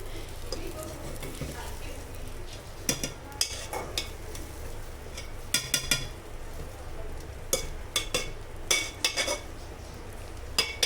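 A spoon stirs semiya upma in a pot with a faint sizzle beneath, several sharp metallic scrapes and clinks landing irregularly, loudest toward the end.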